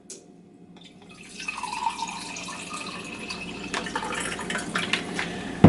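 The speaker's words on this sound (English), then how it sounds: "So we'll give that a pour." Dragonfire punch is poured into a highball glass, liquid splashing and trickling steadily, growing fuller and louder over several seconds, with no talking.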